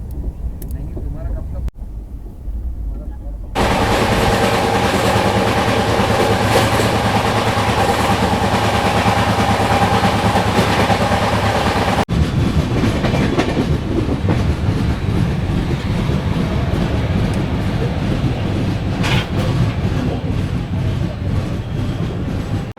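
Nanded-Amritsar Sachkhand Express running on rails, a steady loud rumble with clickety-clack from inside the moving train, continuous throughout.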